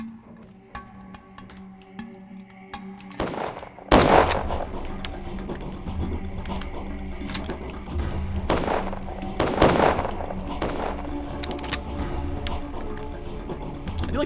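Gunfire in the video game Pathologic, several loud sharp shots in a brief exchange, the strongest around four and ten seconds, over a steady game music bed.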